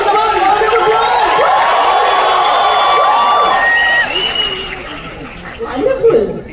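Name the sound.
audience applause and cheering for actors on stage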